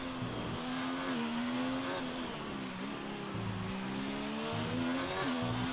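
Formula One race car engine screaming through a hot lap in a racing video game at the French round, a loud, sustained high-pitched whine rising and falling with gear changes and throttle lifts, heard without any voices.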